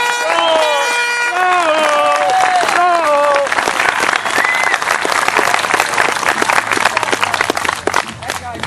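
Loud crowd applause and cheering at a Florida gun-rights rally, rising after a sung or shouted voice at the start into dense, sustained clapping close by.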